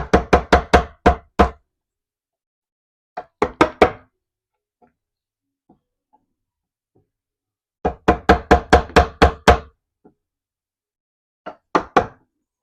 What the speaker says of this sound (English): And then same thing. Come in with the chisel.